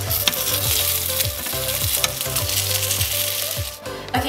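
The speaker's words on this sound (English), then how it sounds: "so while your rolls are frying" Nutella French toast rolls frying in a pan, a loud, steady close sizzle with occasional clinks of a utensil against the pan and no voices.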